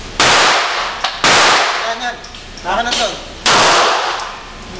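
9mm pistol fired at target practice: three loud, sharp gunshots spaced about a second or two apart, each with a ringing tail, while people talk between them.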